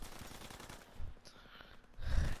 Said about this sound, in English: they're just shooting everything